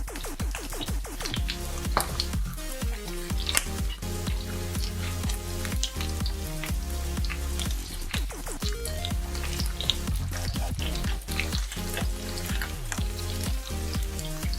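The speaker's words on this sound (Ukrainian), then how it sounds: "порціями смажимо нашого карпа з двох сторін до золотисного кольору" Carp fillets fry in butter in a pan: continuous crackling and popping, with scattered sharp spits over a steady sizzle, close and fairly loud.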